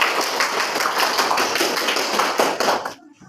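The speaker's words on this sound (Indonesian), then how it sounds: "Tepuk tangan dulu untuk kelompok." A classroom of students claps for a group during a teaching practice lesson, a dense burst of many hands with steady rhythmic pulses that stops abruptly near the end.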